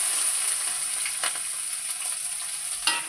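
Nigella seeds, green chilli, onion and garlic frying in hot oil give a steady, dense sizzle throughout, with a few brief crackling bursts and stirring scrapes near the end.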